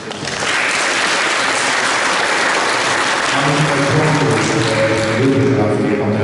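A crowd claps loudly and continuously at a ceremony unveiling a monument to Countess Gabriela Thun-Hohenstein. Midway through, a tonal sound rises beneath the sustained applause.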